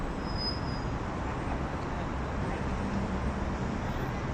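Slow, congested road traffic heard as a dense, steady low rumble of engines, with a brief high squeal near the start.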